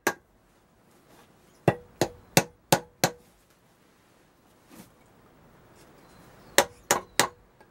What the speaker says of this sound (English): It's not the best to use a chisel